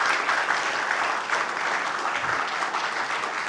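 Audience applause for panel moderators arriving on stage at an industry event, a full continuous round of clapping from a sizeable crowd, steady in level from start to finish.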